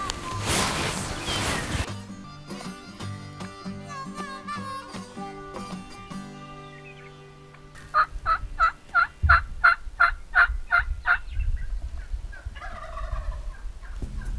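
Repeated wild turkey gobbles ring out from down a creek in South Dakota's Black Hills, a fast rattling burst followed by several more, fairly close and loud over a quiet outdoor background.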